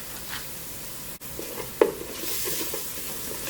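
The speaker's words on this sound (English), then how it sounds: "I'm just going to saute those for a few minutes and get them soft" Vegetables sautéing in a pan, seasoned with salt and pepper, give a soft, steady sizzle, with a stirring scrape and a small clatter partway through.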